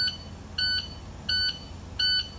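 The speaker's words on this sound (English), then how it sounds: "Sorry about the alarm, guys, but my air pressure is a little low, so it's gonna be going on" A Maxforce DT truck's low air pressure warning alarm beeps three times in an even rhythm, short shrill electronic tones spaced evenly over a quiet background hum.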